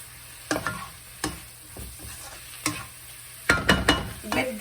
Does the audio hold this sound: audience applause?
no